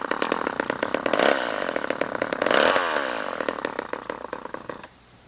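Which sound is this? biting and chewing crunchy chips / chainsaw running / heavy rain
chainsaw running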